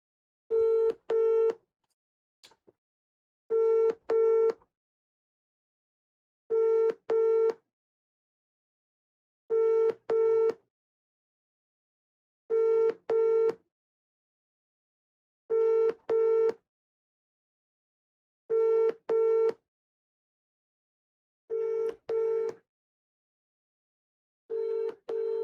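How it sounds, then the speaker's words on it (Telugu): A phone's busy tone repeats in even beeping bursts about every three seconds, clear and steady against silence, with no talk. "నార్మల్ కాల్ చేస్తా, ఇప్పుడు బిజీ చేస్తుంది"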